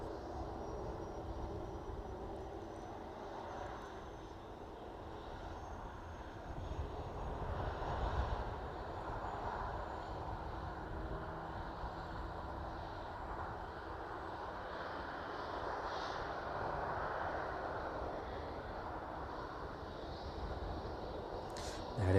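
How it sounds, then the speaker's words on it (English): An aircraft taxis at East Midlands Airport, adding power to climb over a dip in the taxiway. Its engines give a steady, broad roar with a faint high whine, heard from a moderate distance for about twenty seconds without speech. "bit more power to get it up and over that dip there in the taxiway"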